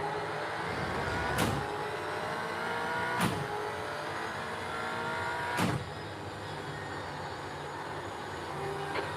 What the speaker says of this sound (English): Got all the old F1 cars that used to sound better back in the day, the screamers.